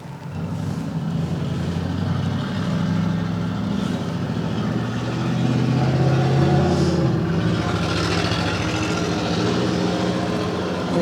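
A motorized chiropractic treatment table lowers with a loud, steady low motor drone that runs unbroken, swelling slightly partway through, with no voices.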